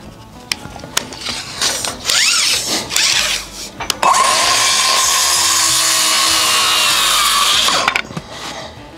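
A power saw cuts a timber beam while a sawmill barn is being built: short bursts and revs at first, then one sustained loud cut for about four seconds before winding down.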